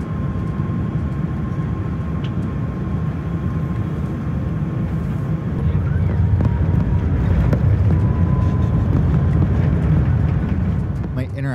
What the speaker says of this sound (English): We touched down on the newish runway, it's my first time touching down here, and taxi past the enormous expansion project to our gate